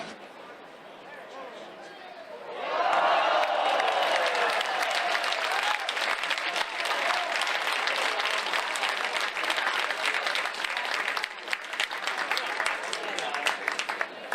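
A crowd at a Victoria HarbourCats baseball game against the Kamloops NorthPaws applauds a ceremonial first pitch, a loud sustained wash of clapping and cheering that swells in suddenly after a quieter start and holds steady throughout.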